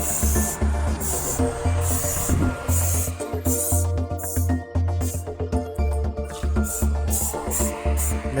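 Manol spray hisses in repeated bursts onto a squeaking rubber door seal of a Jetta car, the aerosol pulses rhythmic and close over a steady low background hum.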